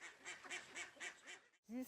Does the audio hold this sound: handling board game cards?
no